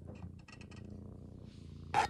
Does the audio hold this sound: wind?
no